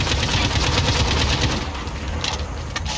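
Rapid automatic fire from the Steel Curtain weapon blueprint in Call of Duty: Modern Warfare, a loud, dense burst of shots running continuously for about three seconds with no talking.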